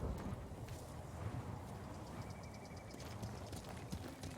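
Steady clip-clop of horse hooves at a trotting pace in the video game Ghost of Tsushima: Director's Cut, fairly quiet under a continuous background wash.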